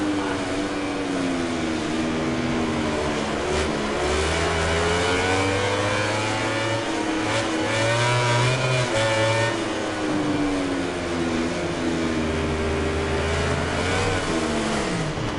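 Motorcycle engine revving loudly and continuously with shifting pitch as a bike pulls a wheelie in the MotoGP 19 racing video game, steady and close with no talk.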